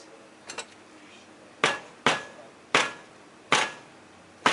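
Five firm, sharp taps on a soap mold ring out alone at roughly even intervals, each a loud close knock with a short decay, following two lighter softer knocks at the start.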